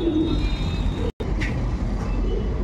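Soft cooing of Madrasi pigeons amid a steady background rumble of traffic, with a brief dropout in the middle.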